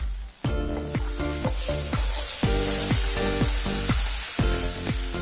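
Pork with roselle leaves frying in a pan, a loud continuous sizzle punctuated by regular scraping strokes of a spatula as it is stirred, about eight rhythmic scrapes, close and without talk.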